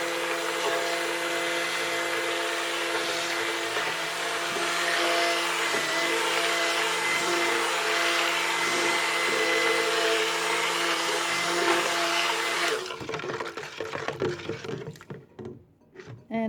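An electric stick mixer whirs steadily, loud and close, as it blends soap batter with lavender, argan oil and shea. It shuts off near the end, leaving brief sloshing and clatter.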